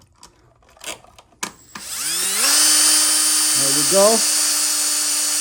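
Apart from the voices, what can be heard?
Milwaukee drill driving a screw into a receptacle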